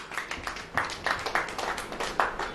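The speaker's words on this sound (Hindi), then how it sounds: "ताली बजाओ।" A church congregation claps hands in a steady, brisk rhythm during a Christian sermon, with roughly even, fairly close claps that repeat several times and no talking over them.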